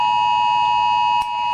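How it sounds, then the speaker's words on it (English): A phone's emergency alert for flash flooding sounds as a loud, steady, piercing electronic tone that holds without a break, heard up close indoors. "That is my phone warning us of flash flooding in the area"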